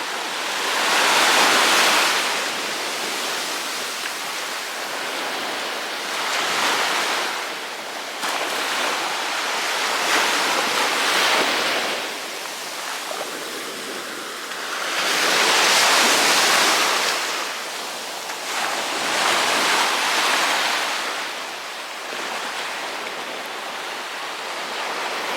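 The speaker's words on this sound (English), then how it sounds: "These waves are quite strong coming in" Strong sea waves break on a small beach near Land's End and Nanjizal in Cornwall, a loud roaring surf that swells and crashes every few seconds over continuous rushing wash, with no talking.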